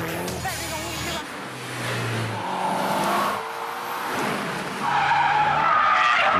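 A Mitsubishi Lancer Evolution skids with squealing tires and revs hard, engine tones rising and falling in bursts over several seconds, close and loud.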